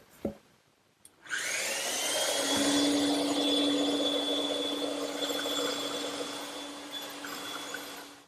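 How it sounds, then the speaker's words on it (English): A bandsaw cuts out a curved wooden chair side piece: after a brief click the machine starts up into a loud, steady whirring roar with a sustained tonal hum, running on under load for several seconds with no talking. "I'll cut it out on the bandsaw"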